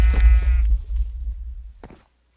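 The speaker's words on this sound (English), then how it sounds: "Sheep's down there." A sheep in the video game Minecraft gives one loud, close, wavering bleat that fades out after about two seconds.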